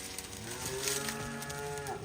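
Cows on a farm moo in a sustained, overlapping chorus, with several low, drawn-out calls close by and no talking.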